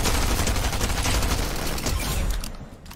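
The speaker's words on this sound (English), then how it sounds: "Getting shot at." Sustained rapid gunfire from a video game battle, dense overlapping shots rattling loudly and continuously before tapering off near the end, with no talk over it.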